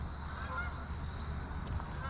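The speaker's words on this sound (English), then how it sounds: "Flock of geese." A flock of geese honks in the distance, repeated faint calls over a steady low rumble of outdoor background noise.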